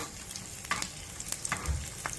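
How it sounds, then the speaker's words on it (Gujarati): Garlic tempering for dal tadka sizzles and crackles steadily in hot oil, close and moderately loud with light stirring, no voices. "હવે તડકો આવશે"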